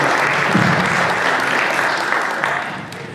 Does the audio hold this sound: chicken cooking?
no